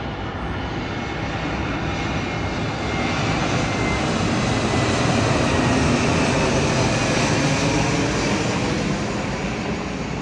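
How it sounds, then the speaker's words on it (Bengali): An airplane passes overhead above a rooftop garden, a loud, steady broadband roar that fills the whole stretch without fading, with no talk over it. "ওই যে একটা প্লেন আসছে।"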